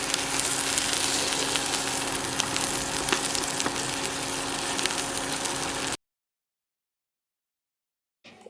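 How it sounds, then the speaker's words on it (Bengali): Cut paneer lightly frying in a little white oil in a pan on an induction cooktop, a dense steady sizzle under a faint hum, then cutting off abruptly to silence for the last few seconds. "কেটে রাখা পনিরটা আমি একটু হালকাভাবে ফ্রাই করে নেব"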